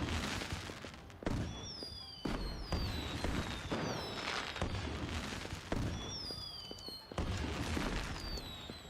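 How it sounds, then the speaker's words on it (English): Fireworks go off in the video game Wuthering Waves: a dense run of booms and crackling bursts with rising whistles, loud and nearly continuous for several seconds. "don't forget to go to this big firework over here and set off these fireworks"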